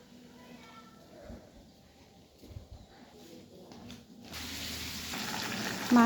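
Fish heads frying in a pan, a steady close sizzle under a woman's speech that swells louder and brighter partway through as the oil crackles more.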